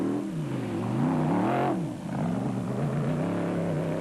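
Race cars passing at the Sun City 400 endurance event in 2008, a continuous engine drone with overlapping tones that rise and fall as cars go by, moderately distant.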